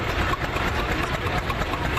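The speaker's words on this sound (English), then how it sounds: "That's a real pleasure to have that tractor in our parade because we haven't seen this before." Tractor engine running steadily in a parade, a continuous low mechanical drone with a rattling idle texture, fairly loud and close, no talk over it.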